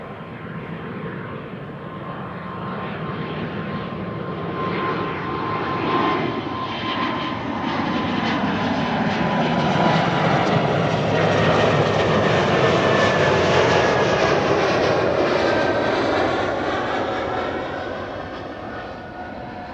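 A KLM Boeing 787-10 departing Amsterdam Schiphol for Toronto roars past, its jet engine noise swelling to a loud peak midway with shifting whining tones, then fading as it moves away.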